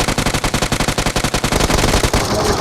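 Rapid automatic gunfire rattles in a battle royale video game, a loud, tightly spaced burst of about twenty shots that runs continuously before cutting off.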